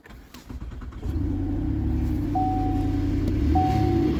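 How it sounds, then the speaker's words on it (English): A Buick LaCrosse engine with an exhaust leak cranks and catches, then settles into a loud, steady idle with a rough, puffing undertone and a faint high whine. "So we're gonna start it. Listen for an exhaust leak."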